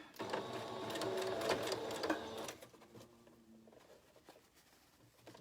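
A sewing machine runs in a quick steady burst, stitching face mask fabric with a back stitch, then slows to a few soft taps and goes quiet; close and fairly quiet.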